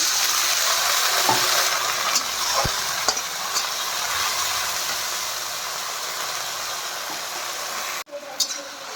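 Water poured into a pan of frying capsicum sets off a loud, dense hiss of steam and sizzling that holds steady, then cuts off abruptly near the end with a brief clatter.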